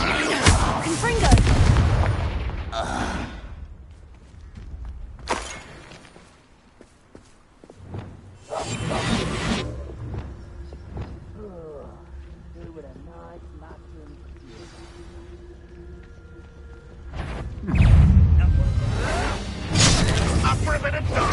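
Confringo fire-blast spells going off in Hogwarts Legacy combat, a series of loud booming explosions spread across the scene with a character's voice and game effects between them.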